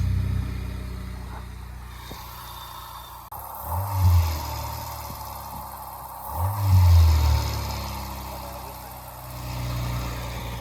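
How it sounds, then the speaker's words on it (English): A stolen Honda Civic's engine turns over and catches, then idles with a low rumble, its exhaust still fitted; two rises in engine noise stand out over steady running, with brief voices in the background. "Alright, let's see if we can start it."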